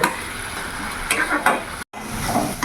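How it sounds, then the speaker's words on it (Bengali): Spice paste fries in very little oil in a pan, a near, steady sizzle with a couple of soft stirring scrapes and a brief dropout near the end. "এখন মশলাটা আমি পুরোপুরিভাবে ভালো করে কষিয়ে নেব।"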